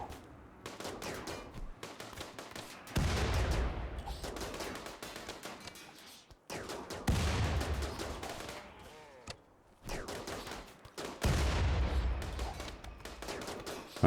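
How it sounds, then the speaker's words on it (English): Rapid bursts of gunfire in the video game RimWorld in several long volleys, loud and close, separated by brief lulls, with the crack of shots layered throughout. "Our gunfire has also destroyed a section of wall"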